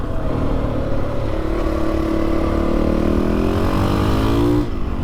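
A Honda CRF 450 supermoto motorcycle revs and accelerates through a twisty run, its single-cylinder engine note climbing steadily in pitch, loud and close, then dropping off abruptly near the end.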